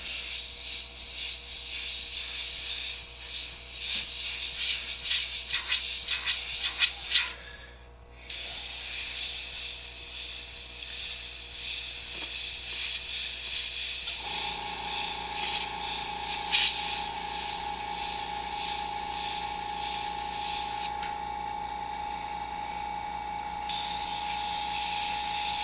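An airbrush sprays a fine mist of gray paint as a steady close hiss. It breaks off briefly, then resumes, with a faint tonal hum joining partway through, and no one speaks.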